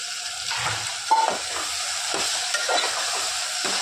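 Potatoes sauté in a little oil for a bombil rice dish, a steady close sizzle broken by scraping stirs and a few clinks of utensil against the pan, no voices.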